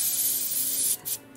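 Airbrush spraying paint onto a miniature, Ogryn Camo colour while priming: a steady close hiss of air and paint that cuts out briefly near the end, then resumes in a short burst.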